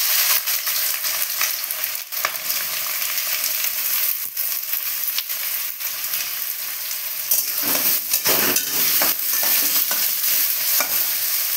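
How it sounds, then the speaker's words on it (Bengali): Sliced onions fry in hot oil in a kadai, giving a dense, steady sizzle with frequent scraping stirs throughout, close and loud. "এই তেলের মধ্যে এবার পেঁয়াজগুলোকে ভেজে নেব।"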